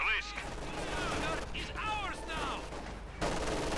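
Gunfire from German grenadiers with Sturmgewehr rifles and an MG42 in the WWII strategy game Company of Heroes 2, with short bursts and sharp cracks running throughout under a steady battle din.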